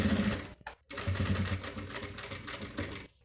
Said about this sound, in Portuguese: E vamos costurar.